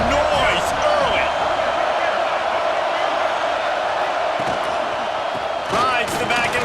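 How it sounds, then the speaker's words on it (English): Roaring stadium crowd in the EA Sports College Football 26 video game, a steady loud wash of cheering and noise throughout, with a commentator's voice running over it. "This crowd bringing the energy and noise early."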